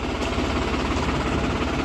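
A New Holland 3630 farm tractor engine runs steadily, a dense low rumble with constant vibration throughout, close and loud with no talk.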